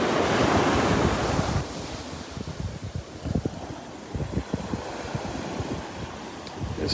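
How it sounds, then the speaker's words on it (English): Ocean waves roll onto a beach in North Naples, Florida, starting with a loud crashing surge that settles into steady wash and fizz. Wind buffets the microphone throughout. "We get some big waves and then it calms down for a little while."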